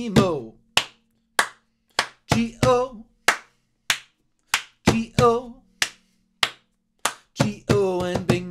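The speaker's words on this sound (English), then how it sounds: "we'll end it with three claps" Children clap their hands in rhythm to the Bingo song, a series of sharp, evenly spaced claps of about fourteen beats, with sung voices between them.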